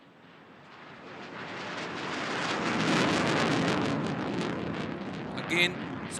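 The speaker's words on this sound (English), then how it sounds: "you will see the JF-17 Thunder running and initiating the skid maneuver," Pakistan Air Force JF-17 Thunder fighter jet performing a demo display at an international air show, a broad roar that swells to a peak and slowly fades.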